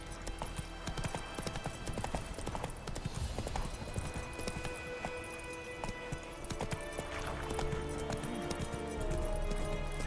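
Horse hooves from The Witcher 3 on PC clop steadily in a quick rhythmic gait, fairly quiet and mixed with game ambience.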